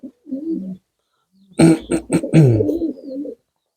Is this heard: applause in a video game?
no